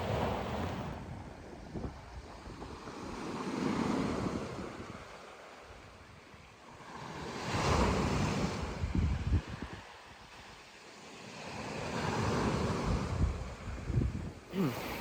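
Waves and wind at a beach campsite: broadband surf swells rise and fall in slow surges every few seconds, with steady wind rumbling across the microphone and no talk.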